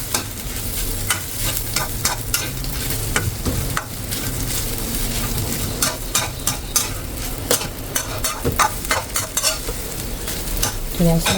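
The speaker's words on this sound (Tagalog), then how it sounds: "And then, mix natin." Shredded chicken pastil being mixed with seasoning in a frying pan, a steady loud sizzle under continuous scraping and stirring of the spatula, with brief clinks of metal against the pan.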